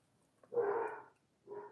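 A dog close by gives a muffled, breathy woof, then a shorter second one after a pause, both fairly faint in an otherwise quiet room.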